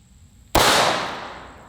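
An FP-45 Liberator pistol fires a single round of 230 grain full metal jacket ammunition: one sudden loud bang after quiet, ringing and decaying over about a second.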